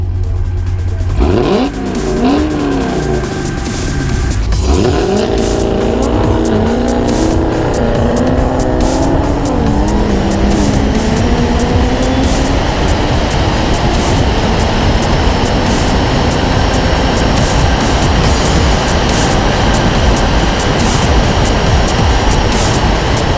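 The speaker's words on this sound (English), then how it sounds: "now we're about to race the Bros Automotive Demon against the Supra in the desert" Modified Toyota Supra drag racing a Dodge Demon across open desert, engines roaring loud and continuous with rising revs and shifting pitch as the cars accelerate away, broadband exhaust and wind noise throughout with no talking.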